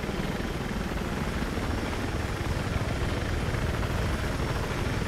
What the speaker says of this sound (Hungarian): Pont itt van a kimenekítő helikopter.